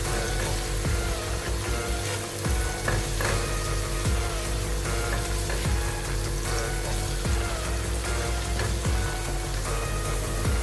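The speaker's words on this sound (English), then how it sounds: "And I'll bring in the peppers. We'll also fry this for another minute." Peppers fry in a pan with spring onions for Nigerian suya jollof rice, a continuous loud crackling sizzle with scattered clicks of stirring running throughout.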